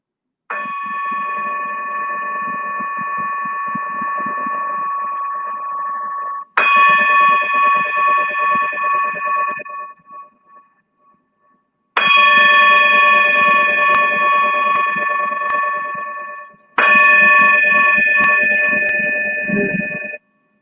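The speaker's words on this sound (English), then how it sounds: "Listening to the bell one more time before Shavasana." A yoga bell rings four times during a children's wellness session, each strike a bright sustained metallic tone that rings out for several seconds before the next, clear and alone with no talking.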